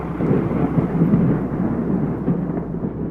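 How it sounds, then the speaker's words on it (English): Violent rain-wrapped tornado tearing through Pleasant Grove, Birmingham, as a dense, continuous roar of wind and heavy rain with low rumbling and no clear breaks, heard from fairly close. "Residents to the south in Birmingham record the violent rain-wrapped tornado as it tears through Pleasant Grove"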